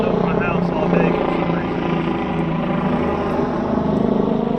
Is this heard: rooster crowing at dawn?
no